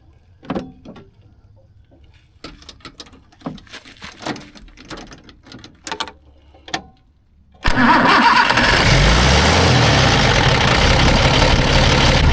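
A John Deere 2940 tractor engine fitted with a replacement starter: scattered clicks and clunks, then about eight seconds in it catches and runs loud and steady to the end.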